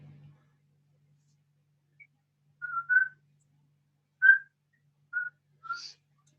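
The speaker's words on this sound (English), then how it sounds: "And I have a little whistling bird in here." A small bird whistles indoors in short, separate chirping calls spaced a second or so apart, clear and fairly close against an otherwise quiet room, with a faint low hum at the very start.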